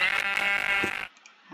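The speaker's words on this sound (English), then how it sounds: "If you kill a sheep, right?" A sheep in Minecraft gives a single loud, close bleat lasting about a second, followed by near silence.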